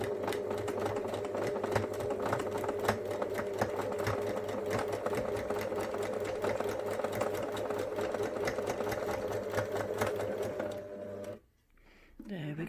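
A sewing machine stitches fabric for a memory bear, running as a steady, close mechanical whir for about eleven seconds, then stopping briefly before starting again.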